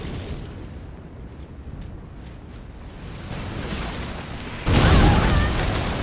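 Fire spell cast in Elden Ring at Shadow Keep, a low rumbling roar building then bursting into a loud whooshing blaze near the end, sustained and close.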